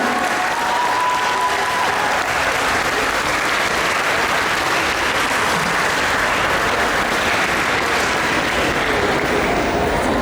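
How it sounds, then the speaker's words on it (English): An audience at a German comic con panel for the Vikings cast claps loudly and continuously, a dense, sustained wash of applause from a large crowd filling the whole stretch. "Round of applause for the Vikings!"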